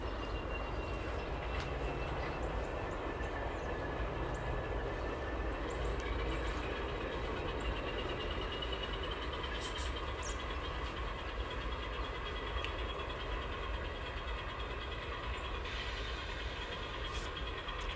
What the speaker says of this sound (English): Pretty good sized train, just now receding into the distance